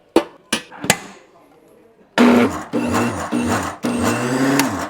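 A motor whirs in short bursts after a few sharp knocks, each burst a loud, steady hum with a shifting whine, like a small kitchen appliance being pulsed.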